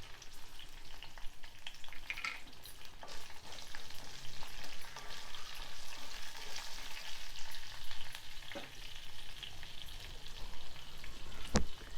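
Coriander seeds and cumin seeds with green chillies frying in hot oil in a pan, a steady soft crackling sizzle with occasional sharper pops and a clink of a utensil near the end.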